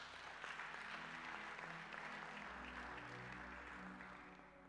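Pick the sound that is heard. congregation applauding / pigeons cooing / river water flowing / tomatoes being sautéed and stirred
congregation applauding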